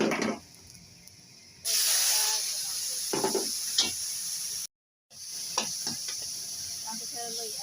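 Chicken tinola cooking in a pan, stirred now and then, with a steady hiss and sizzle broken by short scraping stirs and a brief gap.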